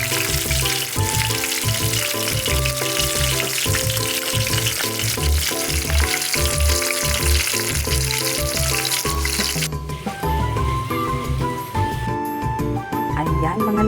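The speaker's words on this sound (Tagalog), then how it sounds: "Kumukulo na yung mantika niya mga langga." Cooking oil bubbles and sizzles hard in a pan while vegetables and dried fish are cooked for lunch, a dense constant crackle running throughout. Music and a voice play along beneath it.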